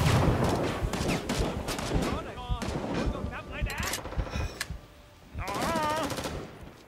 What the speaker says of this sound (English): So somebody's firing at something down here.